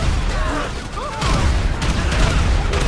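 Gunfire from soldiers and police in a GTA V battle, a continuous dense clatter of shots and booms filling the scene, with some brief higher-pitched tones over the noise.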